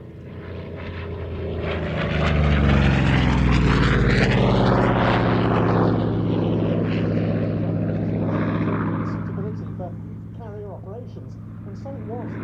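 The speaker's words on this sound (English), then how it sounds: "the Pratt & Whitney R2800 Double Wasp, was the most powerful and largest capacity engine of any fighter aircraft at the time" A Corsair fighter with a Pratt & Whitney R2800 Double Wasp radial engine flies past at an airshow, its propeller roar rising to a loud close pass and then fading, with a commentator talking over it throughout.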